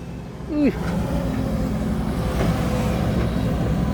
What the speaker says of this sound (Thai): เครื่องยนต์ 4JJ ครับนะ